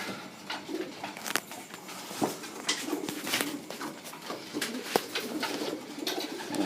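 Pigeons in a loft coo in a steady low murmur, with occasional sharp clicks and wing flaps standing out over the dense flock sound.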